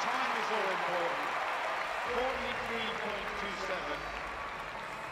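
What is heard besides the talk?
crowd applause at Paralympic athletics stadium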